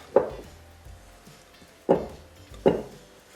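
A spatula folds macaron batter, pressing it against the side of a mixing bowl in three distinct, close thudding scrapes spaced unevenly over a few seconds, with quiet pauses between.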